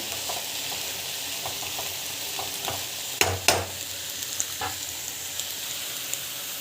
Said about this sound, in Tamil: டொமேட்டோ போட்டு இந்த கொஞ்சம் வதக்கிக்கோங்க.